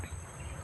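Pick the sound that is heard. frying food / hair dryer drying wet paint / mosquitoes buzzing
mosquitoes buzzing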